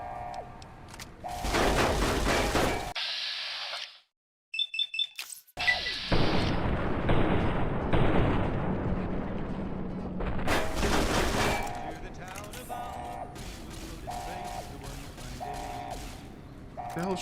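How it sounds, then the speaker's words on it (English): Gunfire bursts in the game Fallout: New Vegas come in loud blocks separated by short gaps and a brief near-silence, mixed with thumps and game sound effects, with a voice talking over parts of it. "What the hell's shooting at me?"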